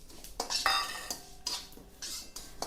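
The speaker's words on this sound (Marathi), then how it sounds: "तर आता आपण इथे हे पांढरी तीळ भाजून घेणार आहोत थोड्या तेलामध्ये।" White sesame seeds roast in a little oil in a pan, heard as irregular scrapes and metallic clinks of a utensil stirring against the pan, with a soft sizzle between strokes and no talking.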